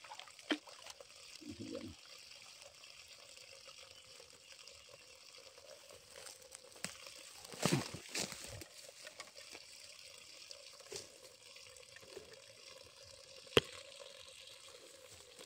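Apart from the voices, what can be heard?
water draining out of a farm irrigation hose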